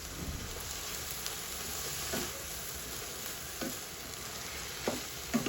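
Vegetables with soy sauce are stirred in a frying pan, with a steady sizzle broken by several distinct scraping and clinking strokes of the utensil, close and fairly quiet, with no speech.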